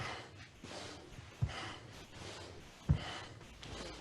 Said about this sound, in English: Inhale up, exhale down.